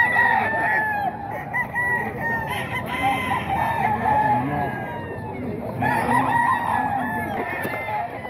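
Roosters, SBR bloodline gamecocks, crowing and clucking close by in a noisy yard, with calls rising and overlapping through the stretch and people talking around them.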